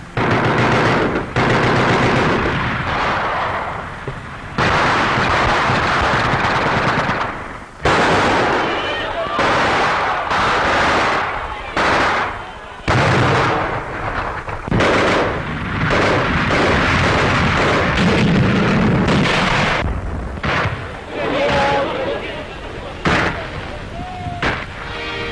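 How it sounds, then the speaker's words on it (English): A 1944 World War II street battle in Paris at the foot of the Eiffel Tower, with a tank and machine guns. Loud, dense bursts of machine-gun fire mix with heavy booming cannon shots and explosions, continuous and harsh with brief gaps. "A tank and machine gun skirmish was waged at the foot of the Eiffel Tower."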